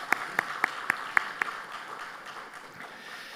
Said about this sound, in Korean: 특별히 이 시간 다시 한번 박수로 격려하도록 하겠습니다